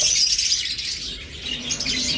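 A pair of red-eyed creamino opaline pet birds chirps steadily in a noisy bird-sale setting, thin high calls close by with some wing flutter and no voices.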